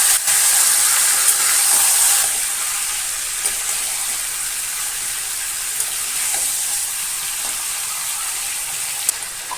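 Onions frying into birista in a pan, a steady loud sizzle and hiss running throughout with a few small crackles and pops, no voices.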